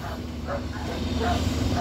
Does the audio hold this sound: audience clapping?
no